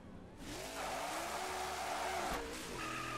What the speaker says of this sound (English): I'm gonna crash here.